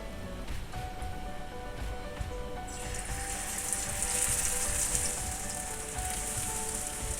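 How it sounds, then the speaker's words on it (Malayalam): Fish pieces frying in hot oil in a frying pan, a steady sizzling hiss that swells louder and brighter partway through as more pieces go in, close and continuous with no talk. "ഇനി ഒരു ഫ്രൈയിങ് പാനിലേക്ക് ആവശ്യത്തിന് ഓയിൽ ഒഴിച്ചു കൊടുത്തിട്ട് ചൂടാകുമ്പോൾ നമുക്ക് ഈ മീനുകളൊക്കെ ഇട്ട് ഫ്രൈ ചെയ്തെടുക്കാം."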